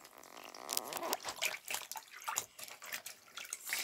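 Water splashes and trickles while a plush toy is washed by hand, with uneven sloshing bursts and drips close by and no voices.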